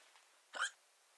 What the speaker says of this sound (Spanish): tengo un ataque de hipo impresionante